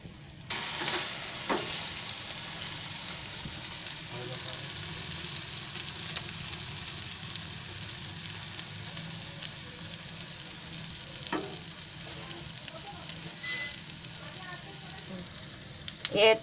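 An egg pola omelette fries in a pan over a lowered gas flame, giving a steady close sizzle and crackle throughout, with a few faint clinks and taps.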